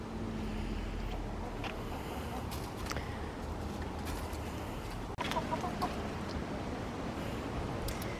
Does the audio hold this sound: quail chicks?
yes